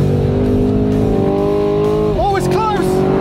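A 2024 Mustang GT and a Camaro SS 1LE drag racing side by side, engines droning loud and steady under acceleration before gears shift with a rising whine near the end.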